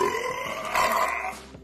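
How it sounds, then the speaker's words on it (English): A video game champion lets out a big, drawn-out belch with a growling, gravelly tone, loud and close, lasting well over a second before trailing off. "with a mighty roar, let out the biggest belch as you reach rank 6"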